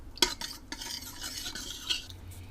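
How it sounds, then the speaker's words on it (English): Barbacoa meat being stirred in a slow cooker, a few wet scrapes and clinks of a utensil against the pot, close and fairly quiet, with no talking. "So I'm just going to stir this up."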